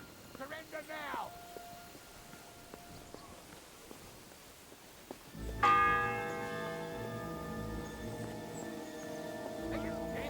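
A church bell in the medieval world of Kingdom Come: Deliverance 2 strikes loudly and rings on with a long sustained hum, after a stretch of quieter game ambience with a brief voice.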